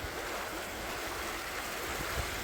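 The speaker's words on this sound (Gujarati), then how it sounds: "પાણીનો અવાજ બહુ આવે છે" Water rushing steadily through a creek in a jungle, a continuous broadband wash with no clear break, heard alone and fairly close.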